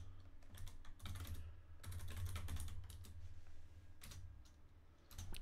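Clustered bursts of keystrokes on a computer keyboard while entering a login, quiet but close, in short irregular runs separated by brief pauses, with no talking.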